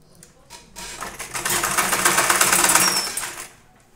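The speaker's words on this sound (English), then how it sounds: "I'll sew it down the lining." A sewing machine stitches a tote bag lining, its fast, steady mechanical whir ramping up, holding for a couple of seconds and then winding down, close and alone.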